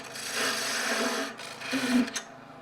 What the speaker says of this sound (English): I'm just getting rid of some wood here so I can get my parting tool in a little deeper.